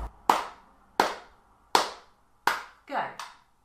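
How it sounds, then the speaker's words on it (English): Bare hands clap a slow, even rhythm, four sharp close claps spaced about evenly, then a quick pair at the end, each crisp and dry in an otherwise quiet room. "I'm going to clap some rhythms over the top"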